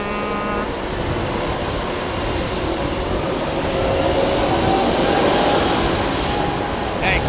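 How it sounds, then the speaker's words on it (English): A Boeing 777 with GE90 engines passes close at Heathrow, a loud, broad roar of jet noise that stays strong and swells slightly over several seconds. "Dirty, great big 777."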